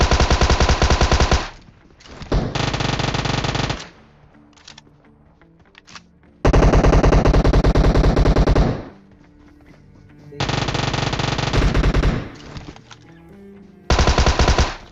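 Loud automatic gunfire from the mobile battle royale game PUBG Mobile, heard in several long, rapid bursts of a few seconds each, separated by quieter gaps.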